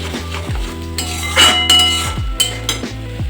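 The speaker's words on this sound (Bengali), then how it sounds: "দুধটা দেওয়ার সঙ্গে সঙ্গে একটু নাড়াচাড়া করতে হবে" A spoon stirs milk into a metal cooking pot of shukto, with repeated clinks and scrapes against the pot's sides in an uneven rhythm, close and fairly loud, no voices.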